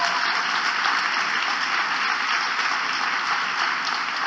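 Steady applause from a large audience at a speech, a dense wash of clapping that holds at an even level throughout with no voices over it.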